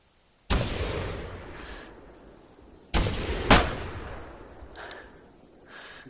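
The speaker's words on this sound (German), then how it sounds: "Alles klar, ich schieß mit Revolver." Revolver shots fired in the hunting video game The Hunter 2014: two loud sharp gunshots, a second blast quickly following the second, each trailing off into a long rolling echo, with no talking.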